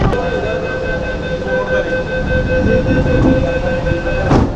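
An underwater metro train running between Sealdah and Howrah runs steadily, with a continuous rumble and a high electric motor whine carrying through the whole stretch.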